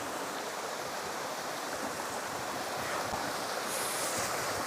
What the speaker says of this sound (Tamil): இங்கே சின்ன ஒரு ஓடை ஆனால் சவுண்டு வந்து பயங்கரமாக இருக்குது